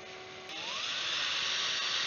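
A power drill spins wire to make a Clapton coil, a high whirring whine that climbs in pitch as it speeds up and then holds steady and fairly loud.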